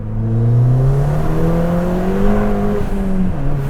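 A stage 2 tuned Ford Fiesta ST accelerates hard down a narrow country lane. The engine note climbs steadily and close, then drops briefly at a gear change before pulling again.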